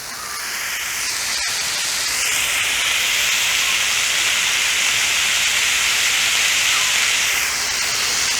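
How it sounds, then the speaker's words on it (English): Smashburger patties sear on a Blackstone griddle in a loud, steady sizzle that swells in the first seconds and then holds close and even throughout, with one brief sharp click near the start. "Get a good sear on them things."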